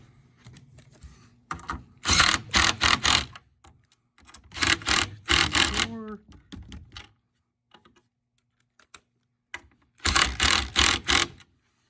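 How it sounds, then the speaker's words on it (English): A ratchet tightens a nut onto a bolt while assembling a DIY Adirondack chair kit, giving three loud bursts of rapid, closely spaced clicks, each lasting about a second or two, separated by pauses with faint handling noise. "tighten it down, then loosen the nut back up"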